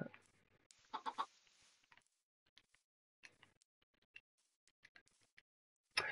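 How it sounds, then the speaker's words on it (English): A video game chicken clucks in short, soft bursts separated by near silence, close and faint, with a few small ticking sounds between the clucks. "I threw an egg and it popped out another chicken"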